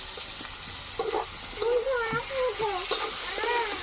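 Ginger, garlic, chopped vegetables and lightly fried onion sizzle in a pan while being stirred, a steady close hiss with scraping strokes, and a voice talking over it.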